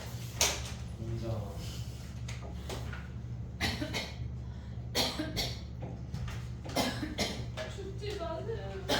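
Sharp coughing bursts, several of them spaced irregularly, sound close by in a classroom setting, mixed in with ongoing talk and a steady low hum.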